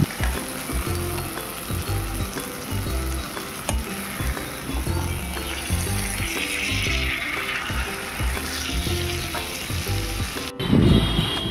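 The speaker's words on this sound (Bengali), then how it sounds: "এই যে কিমাটা আমি এবার মশলাটার মধ্যে ভালোভাবে কষে নিচ্ছি কিমাটা দিয়ে।" Minced goat meat sizzling and frying steadily with spices in a pan, a loud continuous crackle with stirring scrapes throughout and a brief clatter near the end.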